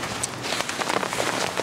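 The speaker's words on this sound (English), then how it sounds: "It's raining." Rain falls steadily during an outdoor car-camping tent setup, a dense hiss with closer individual drops pattering on a nearby surface, continuous and fairly close, with no voices.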